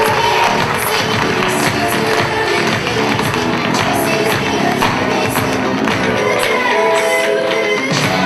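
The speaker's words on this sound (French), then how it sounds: "On applaudit le poète." A slam poetry audience claps and cheers for a poet at a competition, a dense, loud, sustained wash of applause and crowd noise filling the whole stretch.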